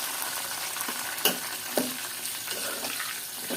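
Onions and garam masala fry in a pan, making a continuous, fairly loud sizzling hiss with a couple of brief scraping stirs.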